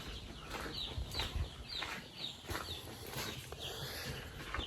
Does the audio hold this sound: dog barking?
no